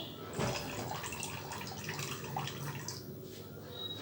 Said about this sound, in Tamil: இந்த காளான் தண்ணி இருக்கிறதுனால தண்ணி வடிச்சு விட்டுறலாம்